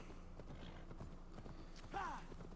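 A horse's hooves clip-clop in a steady rhythm in the video game Assassin's Creed Valhalla, quiet and fairly near, with a brief whinny-like sound rising near the end.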